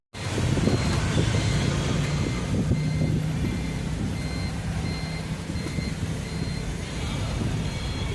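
Busy road traffic with trucks and cars rumbling steadily nearby throughout, with intermittent reversing beeps cutting through the continuous engine noise.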